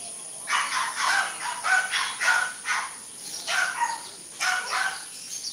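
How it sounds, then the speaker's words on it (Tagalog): A dog barks repeatedly in short bursts of two or three, fairly close and clear, with a steady high electronic whine underneath and no talking. "Ingay ng aso."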